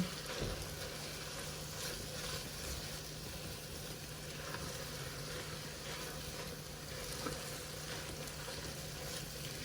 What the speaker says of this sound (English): Kind of a constant stirring you have to do with this. Keep it going or it'll start scorching.